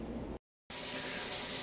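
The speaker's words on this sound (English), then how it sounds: "As you can tell, the water's running." Tap water runs steadily from a faucet in a lab: a continuous, fairly loud hiss of flow that briefly cuts out, then resumes and holds strong with no talking.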